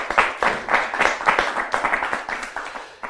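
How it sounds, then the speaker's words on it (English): A modest audience claps for a volunteer called up on stage at a live magic lecture, with distinct, fairly close hand claps in a quick, uneven rhythm that thins out toward the end. "Give Mark a big round of applause."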